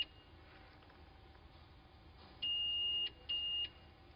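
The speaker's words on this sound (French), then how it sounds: "Chaque passage doit déclencher les alarmes sonores et lumineuses." At a 1991 airport security checkpoint, a walk-through metal detector portal sounds its alarm as a test piece of metal passes through, giving two distinct electronic beeps, a longer tone and then a shorter one, over a quiet room hum.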